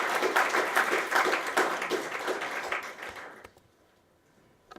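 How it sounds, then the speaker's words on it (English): Audience applause after a technical talk on DevOps with Django, Docker and GitLab, moderately sized clapping that holds for about three seconds, then dies away into near silence with a couple of faint knocks. "can we give another round of applause?"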